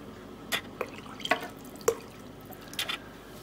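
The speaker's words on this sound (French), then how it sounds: "Pour qu'il reste bien au fond, bien sûr, je le remplis d'eau." Water dripping and trickling into a glass jar as it is filled, with scattered close splashes and plinks over a low running hiss, no voices.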